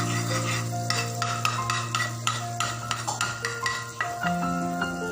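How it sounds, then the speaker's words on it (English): Butter melts in a pan for a white sauce, giving a steady soft sizzle with scattered light clinks and scrapes of a utensil stirring against the metal, close by with no talk. "Add some butter. Let it melt."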